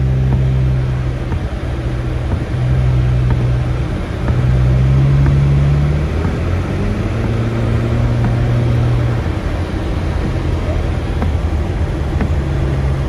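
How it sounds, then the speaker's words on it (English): A 2019 Subaru Crosstrek rolls through fresh snow, its engine and tires giving a steady, muffled low rumble heard from inside the cabin, loud and continuous with small shifts in pitch. "This is the 2019 Subaru Crosstrek for all our new friends here"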